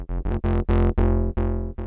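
An Ableton Meld synth on the square sync engine plays a run of separate bright, buzzy notes, each with a swept, distorted tone and a short gap before the next, loud and dry with no voice.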